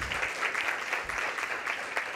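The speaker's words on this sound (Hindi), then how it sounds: "हम तालियों के साथ आपका अभिनंदन करें।" Audience applause at a Raza Foundation dialogue event in India, following a tabla-accompanied performance: a steady, moderately loud wash of clapping from a seated crowd with slight rises and falls, no voices over it.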